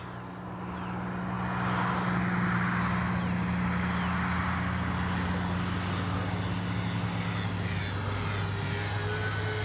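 A Dynam P-61 Black Widow twin-engine RC model plane drones past overhead with a steady, sustained propeller hum that rises and then holds level, with a faint distant whine on top.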